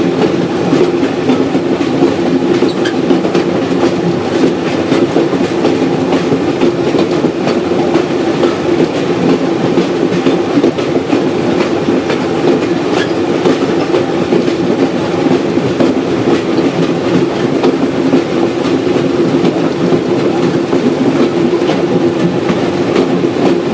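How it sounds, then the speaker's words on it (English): Ma & Pa Railroad train wheels click steadily over rail joints in a continuous loud rhythm, riding along with a constant rumble and no talking. "Rhythm to the rails."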